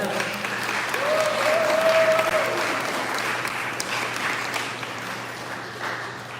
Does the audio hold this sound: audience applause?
yes